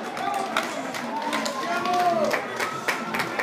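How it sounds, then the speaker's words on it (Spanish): Spectators at a 2013 footrace in Carapan, Michoacán applaud in a broad, steady crowd wash, with cheering voices and an announcer talking over it throughout. "Aplausos, aplausos."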